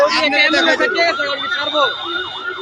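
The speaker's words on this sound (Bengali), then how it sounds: "অ্যাম্বুলেন্স" An ambulance siren wails close by at a road blockade at a Supreme Court gate, its rising and falling tone sweeping repeatedly and loudly, with brief voices underneath at the start.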